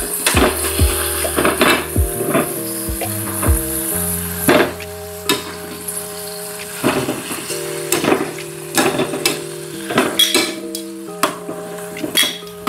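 Tomatoes and chiles frying in a pan while being turned, with steady sizzling broken by repeated sharp clinks and scrapes of a utensil against the pan, close by and fairly loud, no talking.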